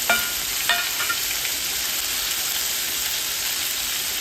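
Ivy gourd (tindora) dropping into hot oil with cumin seeds and asafoetida, giving a brief initial crackle that settles into a steady, soft frying sizzle, with no talk.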